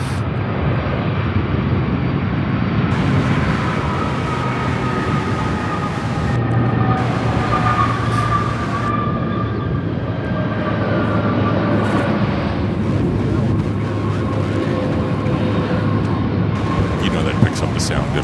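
A Boeing 757 airliner arriving at Louisville International Airport rumbles past with a steady whining engine tone that rises and fades, loud and continuous over a low roar.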